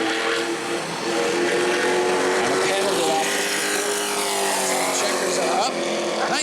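A sportsman stock car engine roars through a qualifying lap at New Smyrna speedway, a loud, rising and falling race-car drone under continuous commentary.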